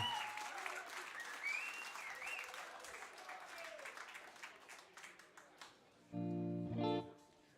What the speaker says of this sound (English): give the biggest round of applause that you can to these 3 extraordinary musicians behind me